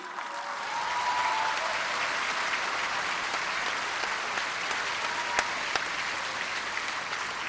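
An indoor audience applauds engineer José Ignacio Sánchez Galán, a sustained, dense wave of clapping that swells in and holds steady at moderate loudness.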